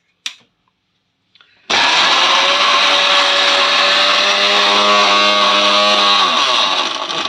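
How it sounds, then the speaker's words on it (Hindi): An electric kitchen blender whirs up loud and steady for several seconds after a short click and brief pause, a dense motor drone holding constant before tapering slightly at the end. "ये जो ब्लेंडर है ना ये चल जाए"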